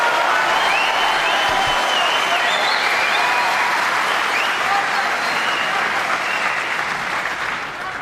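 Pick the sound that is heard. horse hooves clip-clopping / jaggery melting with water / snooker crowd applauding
snooker crowd applauding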